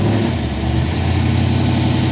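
Blue, all-original 1964 Shelby AC Cobra with a 289 V8 idling nearby, a loud, continuous lumpy rumble with slight revs rising over the steady low throb.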